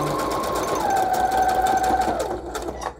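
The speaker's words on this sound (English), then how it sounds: "straight stitching along the bottom" A sewing machine runs a continuous straight stitch along the bottom of a junk-mail paper pocket, a fast steady whirring hum that shifts pitch slightly midway and tapers off near the end, close and alone.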